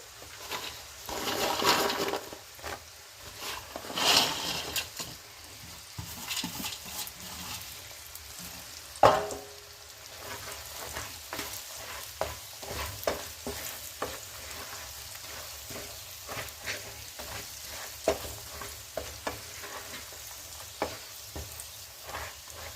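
Fish pieces fry in chili masala for a fish pickle, giving a soft, steady sizzle with scattered stirring scrapes and occasional louder clatters, all fairly quiet.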